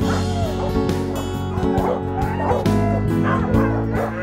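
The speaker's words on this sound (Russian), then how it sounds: "так получилось, что сейчас у нас проживает 48 собак" Dogs kept at an animal shelter bark, yip and whimper together in a loud, busy chorus, with overlapping yelps and whines continuing steadily throughout.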